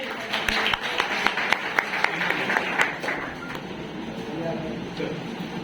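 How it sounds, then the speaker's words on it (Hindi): A small audience at a NEET and career guidance felicitation event claps for a faculty member: distinct, uneven claps that thin out after about three seconds, with a voice heard over part of it. "जोरदार तालियां गिरी सर के लिए।"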